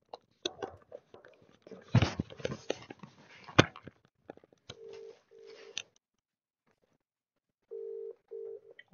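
Two ringback tones on an outgoing phone call sound near the end, each a steady buzzing pair of bursts. They follow a stretch of muffled bumps, clicks and chewing-like noises during an Apex Legends game session.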